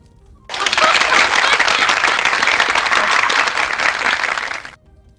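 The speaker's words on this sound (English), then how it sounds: "Everybody clap." Applause from a crowd of players at an all-towns gathering in the online role-playing game Shroud of the Avatar, a dense, steady burst of many hands clapping that starts abruptly and holds at full level for about four seconds before cutting off.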